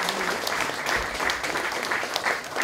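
An audience at a book talk with a band at Popsenteret applauds steadily and fairly softly throughout, a dense patter of many hands with no voices above it.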